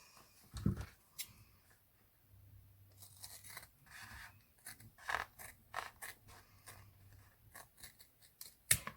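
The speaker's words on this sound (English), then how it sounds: "So then cut your squares out." Scissors snip out fabric squares for hair bows, giving a series of crisp, close cuts at an uneven rhythm with light scraping and handling noises between them.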